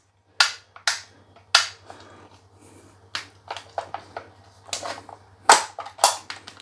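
A Umarex VFC Heckler & Koch HK416C V2 AEG airsoft rifle's forward assist being worked, giving a run of sharp, close mechanical clicks and snaps, some loud and some softer, with short gaps between them; no talking.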